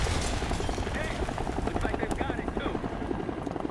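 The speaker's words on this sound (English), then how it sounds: "Helicopter?" A helicopter in Call of Duty Black Ops 6, its rotor thumping in a fast, steady rhythm, loud and close throughout, with voices talking over it.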